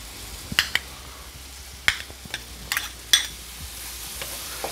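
Mushrooms crackle and sizzle softly in butter in a pan, with sharp scattered pops and stirring scrapes over a quiet hiss.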